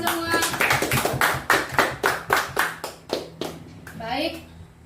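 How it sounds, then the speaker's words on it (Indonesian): A burst of applause from a group, many hands clapping in quick rhythmic bursts that fade out, with a voice starting to speak near the end. "Tepuk tangan dulu buat kita semua"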